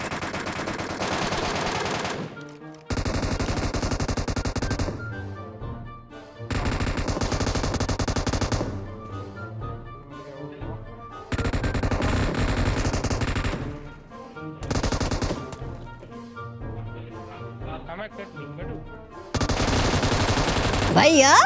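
Heavy automatic gunfire in the mobile game PUBG Mobile: loud, rapid bursts of shots that start and stop abruptly, separated by short quieter gaps, with faint game sounds in between.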